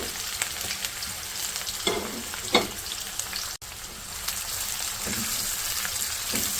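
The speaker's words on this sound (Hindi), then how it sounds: "सारी चीज़ों को अच्छे तरीके से फ्राई कर लेंगे।" Bay leaf, cumin and dried red chillies fry in about half a cup of oil for butter chicken, a loud continuous close sizzle with occasional crackles and brief stirring scrapes.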